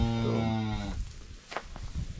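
A cow gives one long, deep moo inside a windbreak shelter where cattle huddle out of the wind, close and loud, followed by quieter shuffling and ambient noise.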